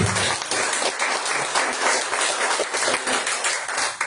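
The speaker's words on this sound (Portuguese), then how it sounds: "e as palmas louvam o Senhor Jesus" A large church congregation claps loudly and steadily, a thick, sustained wash of applause filling the whole stretch.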